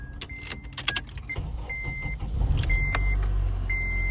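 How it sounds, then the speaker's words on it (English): An Acura/Honda car engine cranks and starts using a key in a newly installed ignition housing, then settles into a steady idle close by, with repeated electronic dash chimes above it. "Car is running with the problematic key."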